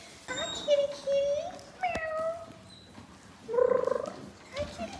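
A cat meows several times in a home with cardboard about, the calls clear and close, with a person talking softly to it between meows.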